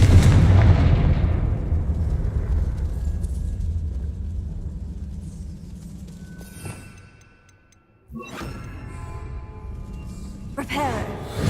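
Confringo blasting spell explosion in the Hogwarts Legacy video game, a heavy rumbling boom that decays over several seconds, then a sharp new crack and more clatter, with game voices present.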